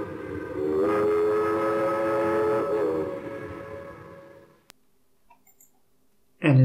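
A Sterling steam train in the Railroad Tycoon Deluxe game, a loud chugging run topped by a sustained whistle that fades out, followed by near silence and a sudden noisy burst at the end.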